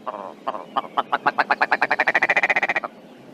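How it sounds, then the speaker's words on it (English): A male willow ptarmigan's loud barking mating call speeds up into a rapid series of harsh pulses, about twenty in quick rhythm, then stops abruptly. "The second half of the recording, the loud barking, is a male's mating call."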